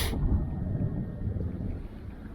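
Wind gusting across an open city lake while street fishing, a steady low roar of buffeting air against the microphone that starts with a brief hiss and holds throughout, with no talk.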